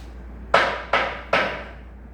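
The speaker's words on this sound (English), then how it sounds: "I will start this meeting by hitting the gavel." A wooden gavel strikes three sharp, evenly spaced knocks to open a meeting, each crisp and close with a short decay, in an otherwise quiet room.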